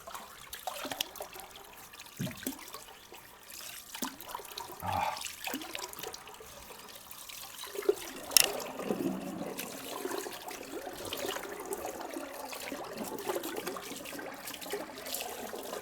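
Cold tap water splashes and trickles quietly as a face is rinsed after shaving, with soft intermittent splashes and a few sharper drips over a low running stream.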